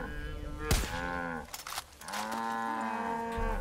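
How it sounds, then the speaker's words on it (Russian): Cows low loudly and close by in the video game Far Cry 5, two long drawn-out moos in succession with a sharp thump between them. "Давайте, коровы."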